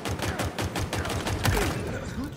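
Rapid rifle fire rattles in Halo Infinite, a fast burst of sharp repeated shots lasting the whole moment. It is loud and dense, with no talk.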